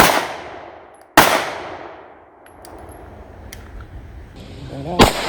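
Two loud close gunshots, Hornady copper-jacketed rounds fired at Guard Dog armor plates, each striking with a sharp metallic clang and fading ring, spaced about four seconds apart outdoors.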